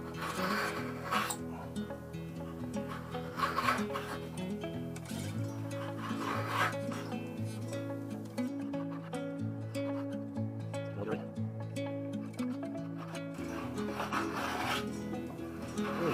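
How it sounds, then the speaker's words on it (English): Sandpaper rubbed by hand over wood on an RC model airplane kit, making repeated scraping strokes in a rough rhythm, fairly close, with musical background underneath. "if we do some sanding, I don't want to do a lot of it"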